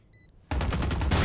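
Valorant match gunfire, a sudden loud burst of rapid automatic shots after a brief quiet lead-in, rattling in a fast rhythmic spray to the end.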